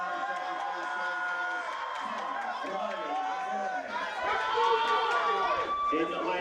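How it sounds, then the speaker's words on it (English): A big crowd at the BUCS outdoor athletics championships roars and whoops steadily in a stadium, under a commentator's continuous talk, with the cheering swelling toward the end. "Massive cheer for Kai Riley Laborde as he tries to defend his title"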